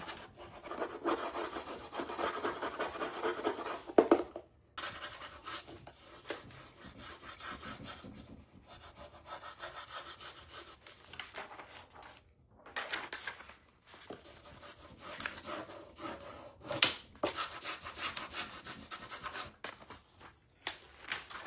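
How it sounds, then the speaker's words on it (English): A stencil burnishing tool rubs a transfer onto a wooden sign in steady, scratchy strokes. The rubbing is quiet and continuous, with brief pauses between passes. "I'm going to grab my Essential Stencil furnishing tool and we're just going to rub"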